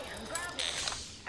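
A weapon reload in the video game Apex Legends: a quick run of close mechanical clicks and ratcheting snaps lasting about a second over a busy game background.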